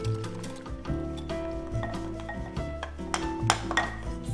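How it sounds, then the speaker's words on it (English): A whisk works flour into soy milk in a bowl, making quick metallic clinks and scrapes in an uneven rhythm, close and moderately loud. "you wanna slowly whisk in the flour so there's no clumps"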